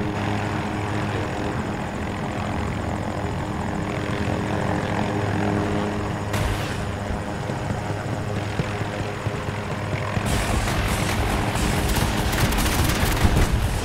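A helicopter's rotor drones steadily throughout in Battlefield 2042, with bursts of gunfire and explosions rising near the end, game-like and fairly loud.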